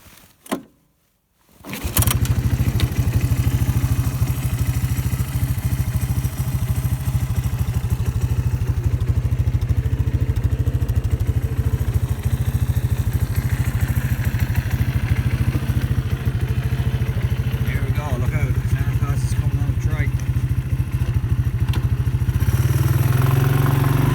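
A 1982 Honda ATC 200 three-wheeler engine fires up after a brief silence and then runs steadily and loudly at a rough, even idle for about twenty seconds, close by with no talk.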